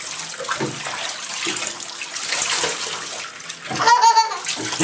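Water splashes and pours over a dog being bathed in a tub, a steady wet rush with sloshing that swells near the end, while faint voices and a little laughter sound in the background.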